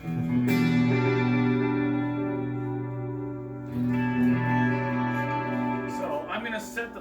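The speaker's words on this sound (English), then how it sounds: "set the electric amp to a point where there's a lot of reverb and delay and chorusing happening" Sustained electric guitar chords from a Taylor T5z ring out with lush reverb, echoing delay and shimmering chorus, a new strum entering midway and decaying into washy tails.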